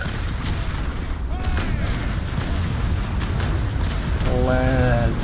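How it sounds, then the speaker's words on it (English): Ship cannons in the naval combat game Naval Action fire from the stern in a heavy, continuous rumble of booming blasts, followed by a faint whistling tone near the end. "Aim at her waterline, and fire!"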